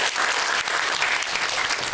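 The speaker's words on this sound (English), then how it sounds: "big round of applause for Brian" An audience at a tech lightning-talk event applauds a machine shop lead named Brian, a steady dense wash of clapping hands that holds evenly for two seconds with no voices over it.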